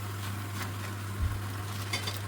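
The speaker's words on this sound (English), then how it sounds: "So first let me add all the leaves, stir it, and then we'll let them go soft." Gongura leaves being stirred in a hot pan of softened tomatoes, a soft steady sizzle with a brief scrape of the spoon against the pan partway through, close and moderately quiet with no talking.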